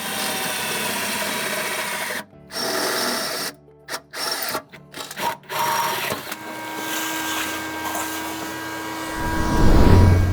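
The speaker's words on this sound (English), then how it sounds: "we're just gonna use a center punch to mark our holes and then drill those out" A power drill bores holes for nutserts in the body of a 2010-2024 Toyota 4Runner, running in several short whining bursts separated by brief pauses, close and steady.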